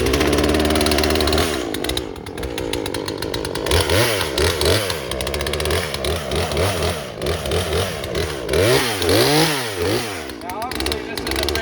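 A gasoline chainsaw from a big box store cuts through rotten wood, its engine loud and continuous throughout, with repeated revving surges rising and falling as the bar bites.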